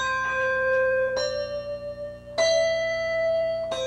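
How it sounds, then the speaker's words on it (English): Handbells are struck one after another in a slow, steady rhythm, each clear metallic tone ringing on and overlapping the last, close and bright with no talk. "I do have to ring this bell first with one hand and the other"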